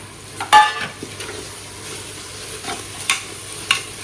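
Onions sautéing in a pan with coriander powder, garam masala and curry masala, a quiet sizzle broken by several sharp spoon scrapes and stirring clanks, close up, no talk.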